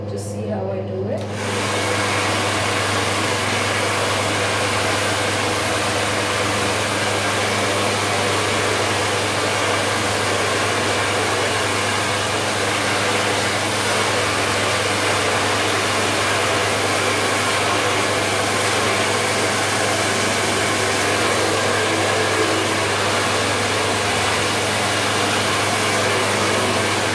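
A hair dryer blows steadily and loudly from start to finish, a constant whooshing roar with a low motor hum underneath.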